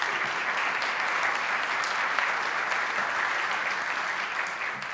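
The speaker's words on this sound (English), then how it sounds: "please give them a big round of applause for their dedication in still hosting us" Steady, dense audience applause for the hosts of a community chamber event, continuous clapping held at an even level throughout and easing slightly at the very end.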